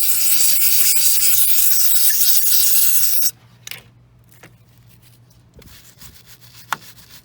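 Stiff brush scrubbing steadily on a Dodge Ram 2500 6.7 diesel EGR part, a loud continuous rasping for about three seconds, then stopping, leaving quiet handling clicks and knocks.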